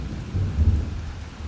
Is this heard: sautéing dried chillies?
no